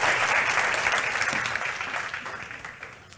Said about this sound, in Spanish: Quiero que le des el mejor aplauso al Rey de Reyes y Señor de Señores